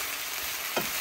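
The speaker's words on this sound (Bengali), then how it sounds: "আর একটু ভেজে নিই" Cabbage frying in a pan for a late-night stir-fry, a steady, close sizzle with a brief stir or scrape partway through and no talking.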